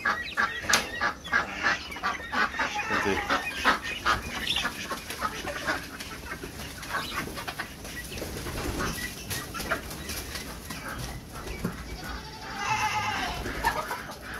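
Hens cluck and squawk continuously as they wait to be fed, a busy flock heard close with overlapping calls and other farm animal sounds mixed in, and no talking.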